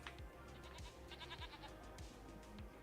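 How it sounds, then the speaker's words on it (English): Goats in the Farming Simulator 25 video game bleat repeatedly in a farmyard, several overlapping wavering cries in a steady rhythm, quiet and mid-distance over a constant ambient background. "got our beautiful goats over here."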